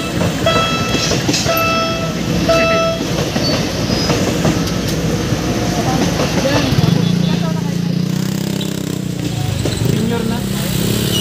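A train rumbles past houses set close beside the tracks and a road, a long near clickety-clack roar with a horn, while people talk over it.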